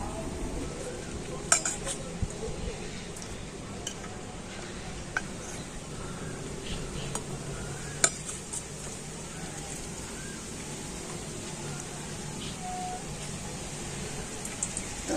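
Spoon scraping and tapping in a pan as cooled mustard oil is ladled out while making raw mango pickle, with soft clinks over a steady faint background hiss.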